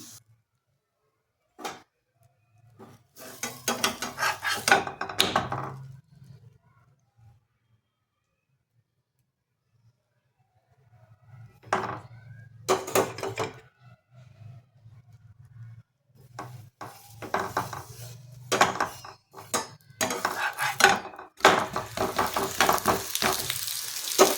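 Cabbage parathas fry in a pan, with intermittent sizzling bursts and soft scraping or flipping clatter separated by quiet pauses, fairly close and moderately loud, with no talking.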